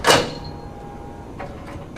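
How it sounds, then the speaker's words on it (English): A unit sliding back into a RISO RZ high-speed printer, one quick scraping slide and thud at the start, followed by faint clicks and quiet mechanical sounds, with no talking. "close the unit, and reinsert back into the machine"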